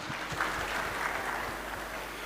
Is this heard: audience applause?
yes